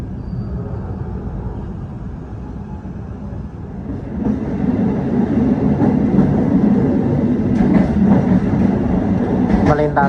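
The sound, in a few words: KA Menoreh train running through Semarang Poncol station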